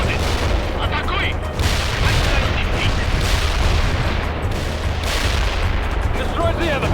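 Gunfire and artillery in the video game World in Conflict: a constant loud battle din with repeated bursts and booming impacts, shots rolling one after another over a dense background roar.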